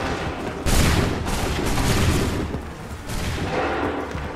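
Musket volley fired by massed soldiers in the Assassin's Creed III battle of Lexington: a loud, broad roaring blast that sustains for a few seconds, with a second surge of rumbling fire, close and dense, no speech.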